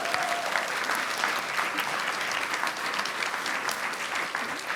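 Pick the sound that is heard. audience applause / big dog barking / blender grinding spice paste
audience applause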